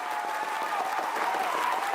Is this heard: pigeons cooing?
no